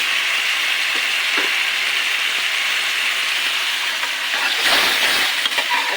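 Prawns fry in a pan of oil with a steady, loud, close sizzle that continues throughout, rising briefly toward the end, with no voices.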